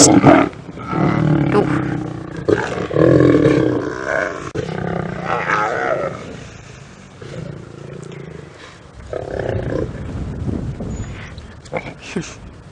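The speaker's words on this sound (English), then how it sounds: "The lionesses have regained the carcass for now. Lots of growling." Deep, rumbling growls and snarls from several lionesses fighting over a carcass, close and loud, rising and falling in overlapping bursts with no talking.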